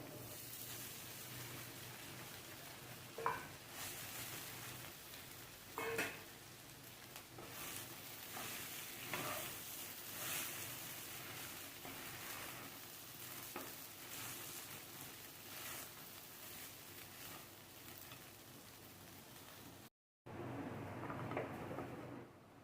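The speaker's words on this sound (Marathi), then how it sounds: "आपले पोहे झालेत परतून" Washed poha stir-fried in a pan, giving a steady, fairly loud broadband sizzle with scraping spoon knocks at intervals, heard alone without talk.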